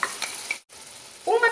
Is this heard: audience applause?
no